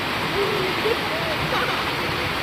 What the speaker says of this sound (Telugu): వర్షం చూడుర్రి ఎంతగానో కొడుతుందో